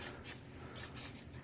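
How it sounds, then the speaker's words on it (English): Non-stick cooking spray hisses onto a cast iron skillet in four short, faint bursts of even spacing, alone in a quiet kitchen. "Lightly, just a spray or 2 there, or 3 or 4."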